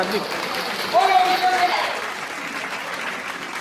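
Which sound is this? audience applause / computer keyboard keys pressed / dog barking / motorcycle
audience applause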